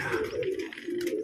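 Pigeons arriving nearby, giving soft, rounded repeated coos close to the listener, with faint chirps over a quiet outdoor background.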